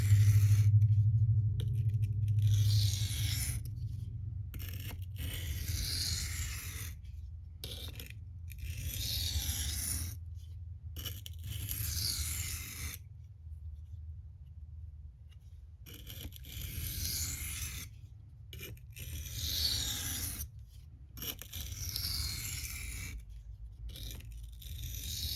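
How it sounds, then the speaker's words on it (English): An M390 steel Spyderco Manix 2 blade is drawn with light pressure across a silicon carbide stone in repeated gritty scraping strokes, each separated by a short silence. "Now we're going to do some into the edge strokes to deburr."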